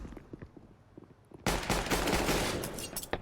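Rapid pistol fire bursts out in a Counter-Strike match on the Nuke map, a dense loud volley of sharp shots after a quieter stretch of faint game sounds.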